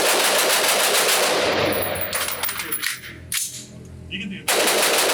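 An LMT MARS-L 5.56 rifle fired rapidly at a range, with a quick string of loud, close shots that rings out and then dies away briefly before another burst.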